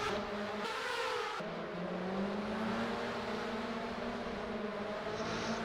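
TCR touring race cars lapping Sandown Raceway produce a steady, loud engine drone with shifting pitch as they accelerate and pass, and no talk is heard over them.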